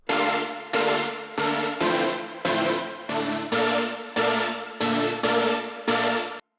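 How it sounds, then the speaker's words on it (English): A huge layered synth chord stab, piano and pad stacked together, repeats about ten times in a steady rhythm, each hit sustaining briefly then cutting off, loud and upfront with no voices. "all of these layers sound like this, like a really big chord step"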